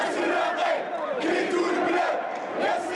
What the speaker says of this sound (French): Malgré des appels à annuler la manifestation, les étudiants ont maintenu leur défilé.